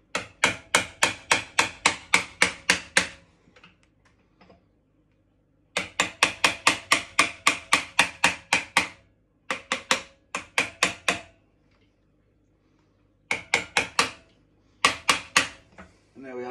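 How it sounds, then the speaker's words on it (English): Repeated sharp metallic hammer blows as a bar is hammered to crack off a flywheel nut, ringing out in fast bursts of about ten strikes, separated by short pauses, loud and close. "Obviously the nut you have to hammer with a decent bar to get the nut to crack off."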